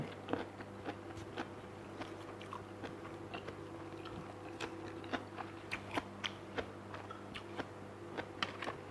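Close, quiet mukbang chewing and biting of spicy Thai papaya salad with fresh shrimp, cockles and bitter melon, with regular crisp crunches and clicks over a soft steady background, no speech.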